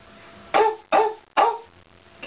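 A human voice imitating a dog barking: three short, loud, gruff barks in quick succession, close up, with no other talk.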